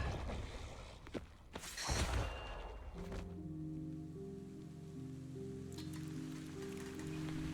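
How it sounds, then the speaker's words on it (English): Steady rain falls during a scene in the video game Zenless Zone Zero, a soft hiss running throughout beneath game music that enters about halfway, with a few brief impacts and effects early on. "Oh, now it's raining"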